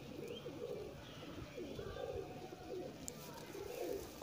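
A breeder pigeon coos in low, repeated throaty phrases that run almost without a break, with faint background noise and no talking.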